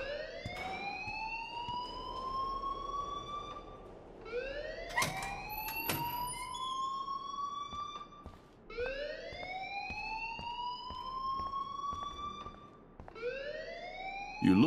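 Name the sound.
school alarm ringing in Life Is Strange video game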